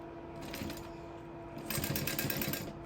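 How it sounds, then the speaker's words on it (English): A sewing machine top stitching a leather sling, a soft mechanical hum that breaks into rapid, even bursts of needle clatter, pausing briefly before a second run of stitching, close up and fairly quiet. "And I'm gonna top stitch."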